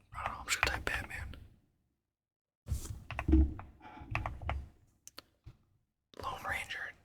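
A handful of soft, quick computer keyboard taps land between stretches of close, breathy whispering in a quiet ASMR setting, with the clicks brief and sparse.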